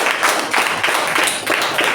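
A meeting audience applauds a speaker and evaluator, with a steady round of clapping from a small group of hands at close range, rhythmic and even.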